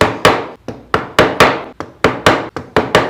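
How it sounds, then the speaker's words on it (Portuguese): A fine chisel cutting a rounded section of a wood carving, struck in about ten sharp, evenly spaced knocks, each with a brief woody ring, loud and close with no voices. "Parte redonda, nós usamos o formão fino."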